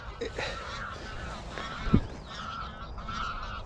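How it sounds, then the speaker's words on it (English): Geese flushed up over farmland honk from a distance, with scattered calls under light wind and background noise. "some geese over there, look, he's put some geese up now."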